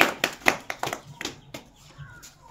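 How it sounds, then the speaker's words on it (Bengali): Children and audience clapping hands at a talent contest, a few sharp, distinct claps spaced out at first, then thinning and fading to quiet. "সবাই ধরে একটা হাততালি"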